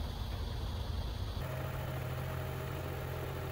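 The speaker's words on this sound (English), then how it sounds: "So I've got the car running. I'm going to hold the accelerator." Steady idle of a 2013 Toyota Prius engine with the accelerator held, a low continuous hum that shifts to a slightly lower, steadier drone partway through, close and alone without talk.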